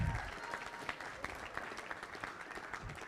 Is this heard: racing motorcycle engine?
no